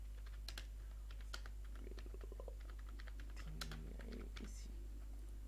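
Typing on a computer keyboard to enter a business description, a run of quick close key taps in uneven bursts over a steady low hum, with no talking.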